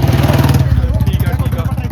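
A New Holland tractor's engine chugs nearby with a low, regular throbbing pulse, heard close and loud under people talking.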